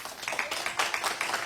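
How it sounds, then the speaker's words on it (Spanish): Scattered, fairly faint clapping from an audience welcoming a guest speaker to the stage, a light irregular patter of hands with no voices over it. "quiero recibir con un fuerte aplauso a Jenny Korn"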